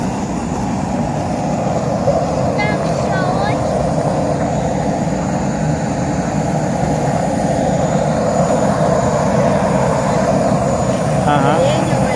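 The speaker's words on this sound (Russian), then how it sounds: "Большой самолет." Steady droning roar of a propeller airplane engine running nearby, with people talking underneath throughout.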